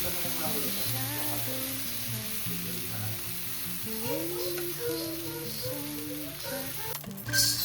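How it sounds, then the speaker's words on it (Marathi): Rava dosa batter spread over a hot oiled pan sizzles steadily throughout, a continuous close frying hiss with a melodic backdrop running underneath. "त्याला खाली छान असं एकदम कडकवाला तापवायचं आणि नंतर तेल लावायचं आणि असं काहीतरी बॅटर त्याच्यावरती पसरवायचं"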